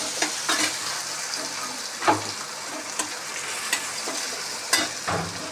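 Whole cumin and ginger frying in oil for ghugni, a continuous close sizzle punctuated by several sharp scraping stirs of a spoon against the pan, with no voices.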